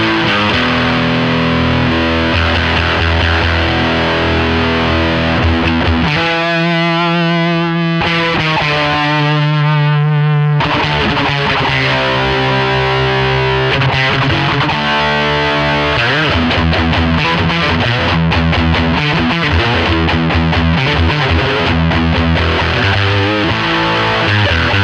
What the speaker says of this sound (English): It sounds like a Rat. It's kind of a fuzzy sound.